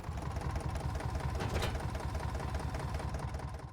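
Tractor engine in the Farming Simulator 25 video game, hooked up to a fertilizer spreader, running at a steady drone with a mechanical hum that rises briefly midway and carries on unbroken.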